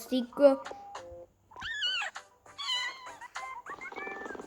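A cat meows several times in short, wavering cries, close and clear, with soft speech mixed between the calls.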